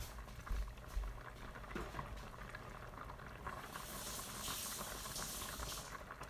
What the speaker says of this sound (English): But the bubbles are looking so good.